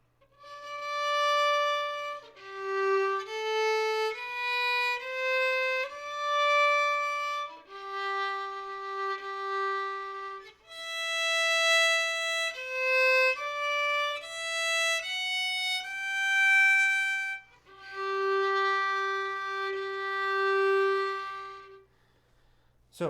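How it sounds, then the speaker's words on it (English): Solo violin plays the opening line of a Bach minuet in a beginner lesson, a steady sequence of clear bowed notes with smooth, sustained phrasing and brief gaps between phrases, close and alone without talk. "So I will play the first line now with the correct rhythm"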